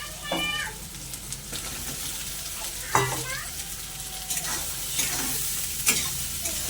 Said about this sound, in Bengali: সয়াবিনটা পেঁয়াজটাকে একটু ভালো করে ভাজা ভাজা করে নেব